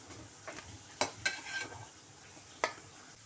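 Faint soft sizzle of vegetarian omelettes frying in a pan, with a few sharp utensil clicks and scrapes against the pan.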